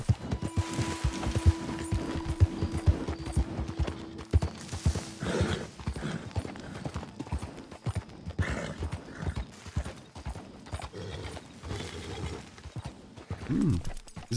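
A horse in Red Dead Redemption 2 galloping with rapid, rhythmic hoof clops, then a loud neigh and further hoofbeats; a tonal in-game hum sits under the early part.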